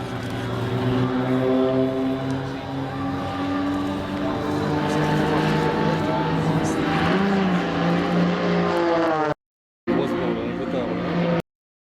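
An Extra 330 aerobatic monoplane performs at an air base open day, its propeller engine droning loud and steady with shifting pitch through manoeuvres, while a commentator's voice runs over it before a brief cutout near the end.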